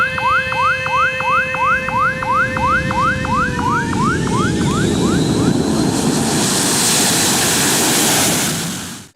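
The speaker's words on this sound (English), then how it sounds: "Planes are landing and taking off left and right" A jet airliner roars at an open Indonesian airport runway, its engine noise swelling loud and close, while a rapid repeating warbling tone sounds over the first half and then fades out.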